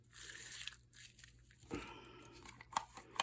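Matte photo paper being crumpled by hand, a close, irregular run of crinkling and crunching bursts with sharper crackles near the end.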